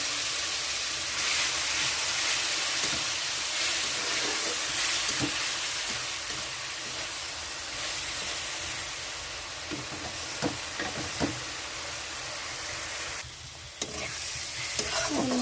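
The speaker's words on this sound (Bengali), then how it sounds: "এখানে দিয়ে দিচ্ছি একটু জল মশলাটা ভালো কষানোর জন্য।" A spice paste fries in a pan with a splash of water, hissing and sizzling steadily up close, broken by a few stirring scrapes and a brief louder burst of steam.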